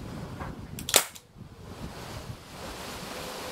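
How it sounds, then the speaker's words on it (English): A .177 air rifle fitted with a brand new gas tank fires once, a sharp hissing crack of released gas that dies away quickly over outdoor wind noise. "it's got a brand new gas tank, so you'll probably hear the gas more than the actual fire"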